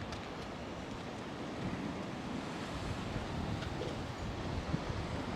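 Waves washing on a very small sheltered beach at Arrieta, Lanzarote, at low tide, a steady broadband surf roar with wind buffeting the microphone, continuous and fairly close.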